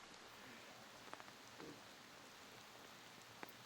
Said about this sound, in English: Yeah, the rain's back again, and just you can tell it just keeps coming and going